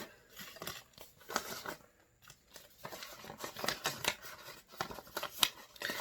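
A paper note folded up by hand, giving soft, close crinkles, creases and rustles in an irregular run of small crackling bursts. The sound is quiet throughout, with no talking.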